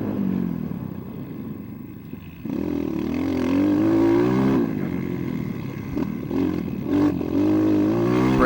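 An SSR 189 dirt bike engine revs hard on a motocross track, its close, loud note climbing and dropping in several repeated pulls, with wind rush from a helmet-mounted position.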